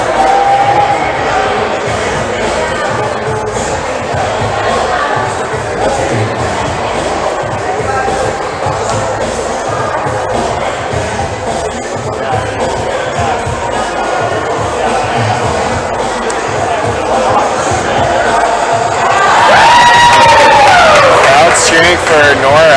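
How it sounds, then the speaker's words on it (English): An indoor crowd cheers and murmurs for a climber at a provincial top rope climbing final, with a steady roar under close talking and a louder swell of cheering near the end. "Crowd's cheering for Nora."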